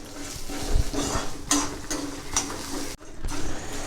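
Shallots, garlic and coriander roasting in a pan for a medicinal kuzhambu, with steady scraping and stirring of a utensil against the pan over a low sizzle, close and moderately loud, with a brief pause near the end.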